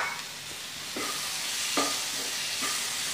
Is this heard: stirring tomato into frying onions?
yes